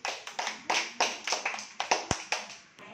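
Several children clap in a classroom during a maths activity, a quick irregular burst of sharp hand claps close by, loosely in rhythm and unaccompanied by talk.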